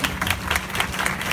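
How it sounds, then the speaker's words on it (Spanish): Street audience on Calle 16 de Septiembre applauding a band, a dense, steady patter of many hands clapping at close range for a brief moment. "Un fuerte aplauso"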